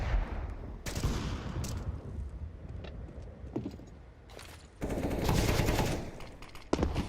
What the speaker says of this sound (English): Solid double kill coming out of Joda.